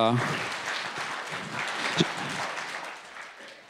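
An audience applauds at a talk by a speaker, a dense, steady clatter of many hands that fills the room and slowly tapers off, with a brief voice at the start.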